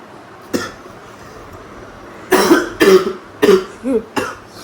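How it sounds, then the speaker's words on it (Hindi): Harsh, barking, dog-like coughing from a person with a cough: one isolated hack, then a cluster of four or five close, loud coughs in quick succession. "कुत्तों वाली खांसी"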